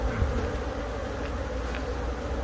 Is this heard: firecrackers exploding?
no